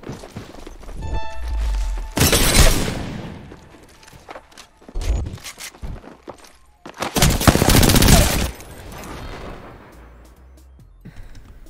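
Gunfire in the battle royale video game Apex Legends comes close and loud as two long rapid bursts of automatic fire, separated by a few single shots and quieter gaps.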